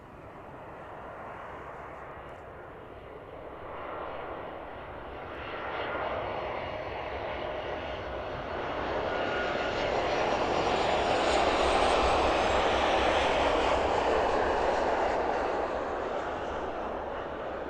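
A jet airliner descends through about 600 feet on evening approach to land at East Midlands Airport, its engine roar building steadily and loud over the whole stretch, peaking near the end as it passes overhead.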